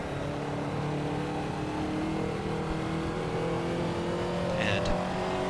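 A Ferrari 288 GTO engine in Assetto Corsa revs up under power, a steady loud droning note climbing as the revs build, with a brief tire chirp near the end.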